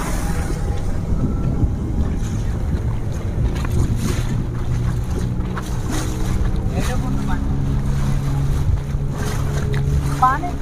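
A small boat pushes across shallow water, a steady low rumble of motor and water churn running throughout, with gusty wind buffeting the microphone.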